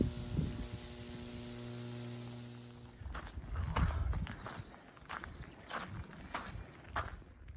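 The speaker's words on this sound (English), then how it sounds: "It always freaks me out when power lines make that sound." A steady electrical hum from overhead power lines, a buzzy harmonic drone filling the first few seconds, then giving way to scuffing footsteps on a trail.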